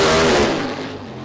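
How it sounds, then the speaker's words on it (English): A supercharged Chevy Camaro Pro Modified drag car launches at Santa Pod with its tyres spinning off the line, a loud, dense engine roar that fills the moment and eases off slightly. "Andy spins the tyres off the line."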